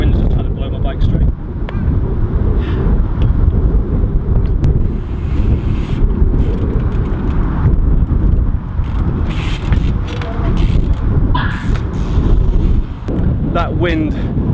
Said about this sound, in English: Hope you can hear me with this wind going on